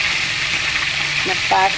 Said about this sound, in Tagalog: Careful lang tayo mga Mars pag tayo ay nagpiprito ng isda.